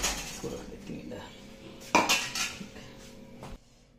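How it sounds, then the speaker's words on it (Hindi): In a home kitchen, a spoon scrapes and clinks against a plate as ground paste is moved onto it, giving a few close metallic taps and scrapes that stop abruptly near the end. "इसको निकाल लेती हूँ एक प्लेट में, अभी इसको रख देती हूँ इधर।"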